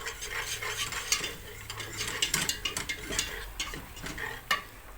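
Corn soup ingredients sautéing in oil in a pan, with soft sizzling under close, irregular stirring and scraping clicks of a utensil against the pan.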